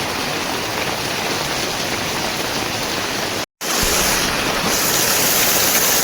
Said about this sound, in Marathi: पाणी आणि पाऊस जोरदार पडतोय आहे